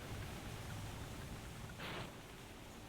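Soft steady rain falls in Spyro the Dragon, a faint continuous patter with a brief brighter splash near the middle and no talk.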